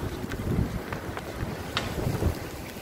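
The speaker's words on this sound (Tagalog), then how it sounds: "Malakas ng hangin" Strong typhoon wind buffets and rumbles continuously outdoors, with gusty surges and low roaring noise close on the microphone.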